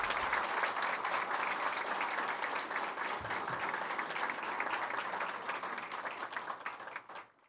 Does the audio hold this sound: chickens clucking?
no